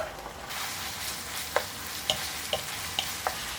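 Vegetables and gochujang pork stir-fry over high heat, a dense loud sizzle with sharp clacks of a spatula against the pan every half second or so.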